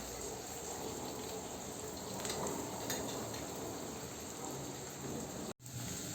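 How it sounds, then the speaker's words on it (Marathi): Onion sautéing in oil with a spoon of cumin and mustard seeds added: a continuous soft hiss and crackle, faint and even, with a brief dropout near the end. "कांदा परतत असताना यामध्ये आपण 1 चमचा जिरे मोहरी घालूया."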